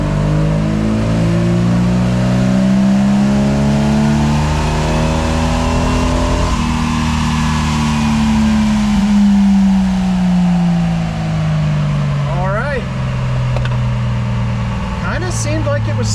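Jeep Wrangler 4.0 engine with cam and compression upgrades on a dyno pull, revving loudly and climbing steadily in pitch before dropping off near the end.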